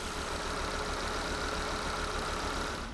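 Volvo V70 engine running with a misfire, a steady, dense mechanical drone and hum with an uneven, knocking undertone, close and continuous without any talk.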